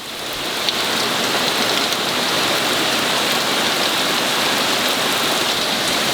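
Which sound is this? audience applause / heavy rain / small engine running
heavy rain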